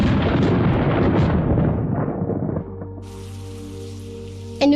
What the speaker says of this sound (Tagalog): bumagsak ang ulan.